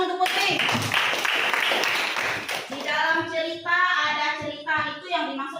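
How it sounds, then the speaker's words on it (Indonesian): A classroom full of people claps together for about two seconds, then a voice speaks and children chime in as the applause fades. "Iya, betul Putri, tepuk tangan"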